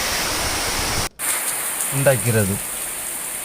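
Heavy sudden rain pours down in Chennai as a steady, dense hiss that fills the scene, with a brief dropout and a person speaking over the downpour.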